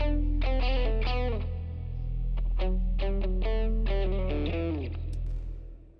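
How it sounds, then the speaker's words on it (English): Short distorted electric guitar solo intro, melodic sustained lead notes with bends and slides in several phrases, loud and alone with a slightly chorused tone. "And then there is a little guitar solo intro."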